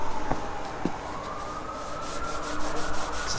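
Leather shoes are buffed during a shoe shine, a steady close rubbing swish that runs without a break, with a faint siren rising in the distance.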